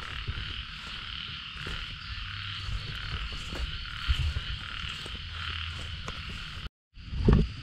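Frogs croak steadily at night during the rainy season while traps are checked for frogs, a dense chorus of near and distant calls over insect hum, with a brief dropout and a louder close thump near the end.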